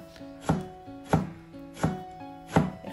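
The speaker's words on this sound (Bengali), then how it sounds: "এখানে আমার হাজব্যান্ড আমার পেঁয়াজ কাটিয়া দিরা" Onions being chopped with a knife on a board, four firm, evenly spaced thuds close by over a faint steady tone, no talking.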